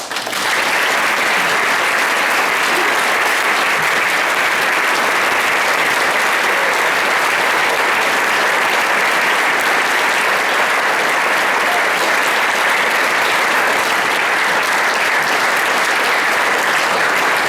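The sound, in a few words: audience applauding as Stephin Merritt and Mike take the stage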